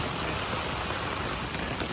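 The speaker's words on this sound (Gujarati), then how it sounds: "વરસાદ બંધ થવાનું નામ નથી લેતો।" Heavy rain pours down in a dense, steady hiss without pause, the downpour filling the whole short stretch with no voices.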